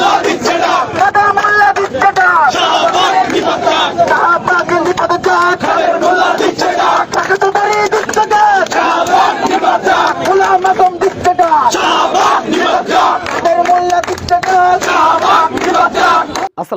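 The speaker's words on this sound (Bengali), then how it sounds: "আজকে একটি স্লোগান শুনে মনটা ভরে গেল কাদের মোল্লা দিচ্ছে ডাক শাহবাগ নিপাত যাক" A large crowd chants a political slogan against Shahbag in loud, rhythmic unison, the massed voices repeating steadily and close throughout.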